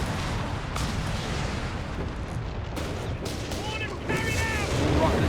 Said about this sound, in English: More rocket artillery here.